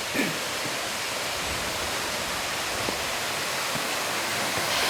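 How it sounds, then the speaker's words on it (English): A noisy waterfall at Natural Bridge in Springbrook National Park roars with a steady, dense rush of falling water that stays loud and unbroken throughout. "It's a bit noisy, that waterfall."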